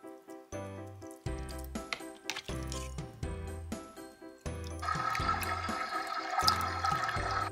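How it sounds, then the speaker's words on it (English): Water pours onto a Baby Alive Abby doll's hair during a rinse, a steady rushing stream entering halfway through and continuing to the end beneath light background music. "Okay, now let's rinse your hair."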